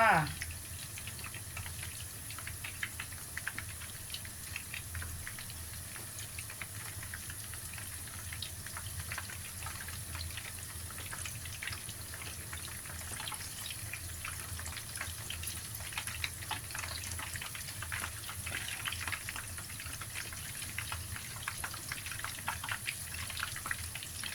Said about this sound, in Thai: ทอดให้เหลืองสวยเลยนะคะ